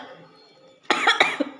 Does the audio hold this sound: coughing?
yes